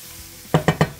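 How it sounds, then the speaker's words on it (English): Chicken and flour get stirred in a sizzling pan: a soft background hiss, then three quick, close scraping strokes in a short rhythmic burst, with no voices. "Let me go ahead and stir this around."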